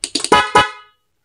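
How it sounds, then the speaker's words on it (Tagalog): A car horn on a 93 Plus Pro Music unit set to normal mode gives several short close honks, then one longer loud blast that cuts off into silence. "yung mode 1 ng ating 93 Plus Pro Music, guys, normal horn lang yan"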